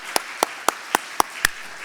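A handful of separate sharp claps, about six, evenly spaced and close by in a church service, with no crowd applause building behind them.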